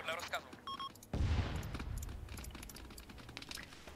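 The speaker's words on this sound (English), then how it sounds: "Yeah, there's the loud shooting." Gunfire in a military video game: a sharp, loud burst of shooting erupts after a second of quieter clicks and beeps, then trails off into a rumbling decay with scattered distant shots.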